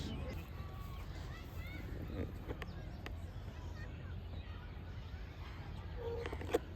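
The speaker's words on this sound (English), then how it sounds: "And there are lots of birds in these trees." Birds calling from trees in a countryside setting beside a grazing field, with faint chirps and short calls scattered over steady outdoor background noise.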